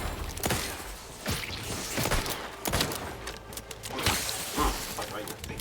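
Combat gunfire in The Outer Worlds video game, a series of sharp shots and thuds spaced irregularly, moderately loud, with a voice talking in the mix.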